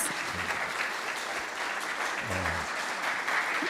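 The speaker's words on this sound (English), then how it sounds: "Let's give Dave another round of applause." An audience applauds speaker Dave Mitchell at a climate action talk: steady, dense clapping from a crowd that holds at an even level throughout, with a faint low murmur underneath.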